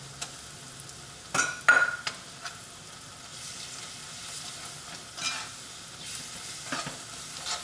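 Ginger garlic paste sizzles in hot oil for a brinjal curry, a constant low frying hiss punctuated by a few louder clinks and scrapes of a spoon against the pan early on, then settling into a steady sizzle.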